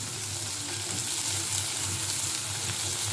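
Chopped onion sautéing in a pan with curry leaves, roasted peanuts and green peas for red poha, a steady close sizzle with a low frying hum running unbroken throughout, no voices.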